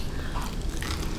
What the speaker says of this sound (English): I just like the crunch, right?